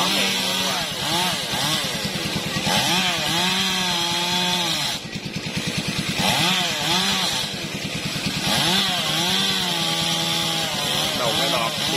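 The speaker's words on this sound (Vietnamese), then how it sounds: "Anh Thợ ngồi đó cưa mắm này." A chainsaw cuts into a leaning tram tree beside a fish pond, its engine droning loud and close, rising and falling in long revving pulls with a brief dip midway.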